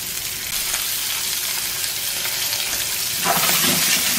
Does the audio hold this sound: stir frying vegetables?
yes